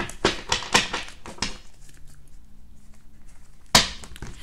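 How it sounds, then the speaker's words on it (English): A deck of tarot cards is shuffled by hand in quick riffling bursts, then goes quiet for a pause before one last sharp riffle; the sound is close and soft. "I'm going to use a whole deck to clarify this whole read. So let me go ahead and shuffle a little bit."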